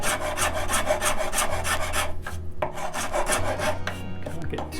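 A coarse number 50 Nicholson rasp files a wooden guitar headstock in steady back-and-forth strokes, about two per second, each a close, gritty scraping rasp with a brief pause midway.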